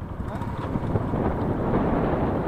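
Strong wind buffets the microphone on a mountain road between Tsongmo and Zuluk, a steady, dense low roar that continues without a break for the whole stretch.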